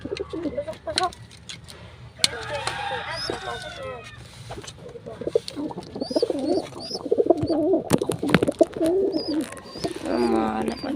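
Pigeons coo in soft repeated throaty bursts nearby, interspersed with clicks and small knocks, while a person talks intermittently.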